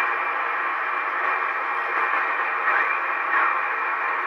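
Band noise comes from a Heathkit SB-104 solid-state HF CW/SSB transceiver, a steady hiss with faint wavering signals drifting through the static for a few seconds.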